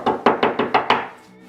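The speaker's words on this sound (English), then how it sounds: "Knock, knock, knock! Who's there?" Five evenly spaced, loud knocks on a door ring out in quick succession, each a sharp hollow thud with a short decay before silence.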